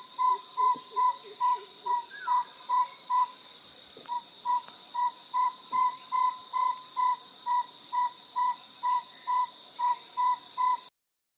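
An owl in Sri Lanka calls from a treetop, a steady series of short, evenly spaced hoots repeating in a quick rhythm against constant high insect buzzing, fairly clear and not close.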